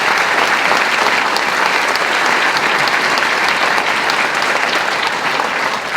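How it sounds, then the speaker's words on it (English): Audience at a mayor's State of the City address applauds the concert band and choir, a dense, even, sustained round of clapping that carries loud and unbroken throughout. "Let's give Pearl Hawthorne, the concert band and the choir, another round of applause."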